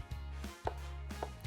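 A knife chops the ends off vegetables on a cutting board, a few sharp knocks spaced unevenly over a second and a half, close and fairly quiet.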